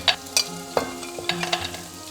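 Cashews stir-fried in a wok, giving a few quick scraping stirs and light clattering against the pan over a soft sizzle, close by.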